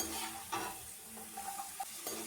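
French fries frying in a pan give a soft, steady sizzle with a few light stirring clinks, fairly quiet and close, without any voices.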